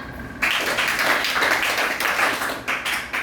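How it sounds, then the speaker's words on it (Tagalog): A classroom of students claps for a classmate in a steady run of quick, fairly loud claps that goes on for about three seconds after a brief quiet start. "maaari bang bigyan natin si Manabiling Kitri ng 5 palakpak?"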